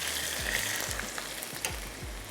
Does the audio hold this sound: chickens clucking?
no